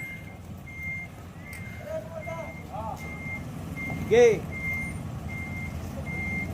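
A delivery truck loaded with motor parts arrives, its reversing beeper sounding in steady, evenly spaced tones over a low engine rumble, with a brief voice and a short louder knock partway through.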